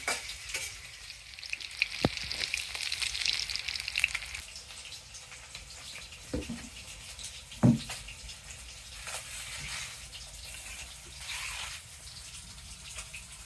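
Fish frying in oil in a wok spits out a steady hiss with brief crackles and a few sharp knocks, close by and moderately quiet, with no talking.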